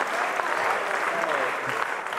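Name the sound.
audience applause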